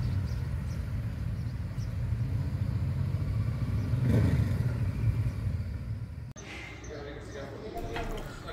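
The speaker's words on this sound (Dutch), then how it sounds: "En er komen wel heel veel motoren aan." Many motorcycles approach along a road near the village of Drouva, close to Olympia in Greece. A faint, distant engine rumble builds to a peak and then drops away abruptly, leaving quieter background sound.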